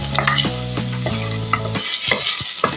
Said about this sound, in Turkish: Şimdi salça kokusu çıkana kadar kavuruyoruz.